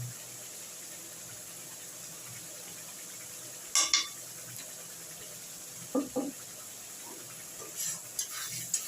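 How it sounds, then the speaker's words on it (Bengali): Chopped tomatoes are stirred in a pan for chicken bharta over a soft, low sizzle, with a few brief, close scrapes of the spoon against the pan. No one speaks. "টমেটোটা দিয়ে একটু নাড়াচাড়া করেই আমি এখানে আন্দাজ মতন একটু নুন দিয়ে দিচ্ছি"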